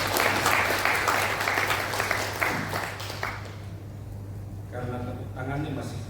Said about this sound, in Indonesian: Karena tepuk tangannya masih kurang